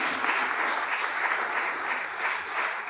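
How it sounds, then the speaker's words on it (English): A crowd applauds itself at a public banking and local renewables event, a continuous even clatter of many hands that stays steady and fairly loud throughout. "give yourselves a round of applause"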